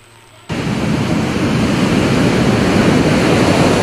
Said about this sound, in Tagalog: Nilamon na ng malalakas na alon ang mga bahay na ito sa Lagunoy Gulf.